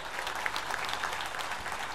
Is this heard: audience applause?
yes